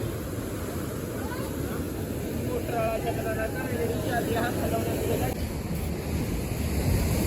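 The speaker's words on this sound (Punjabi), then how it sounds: "ਦੇਖੋ ਪਾਣੀ ਕਿੰਨੀ ਰਫਤਾਰ ਤੇ ਆ" The fast-flowing Beas river rushes in a constant, loud broadband roar, buffeted by wind against the microphone, with voices faintly present in the background throughout.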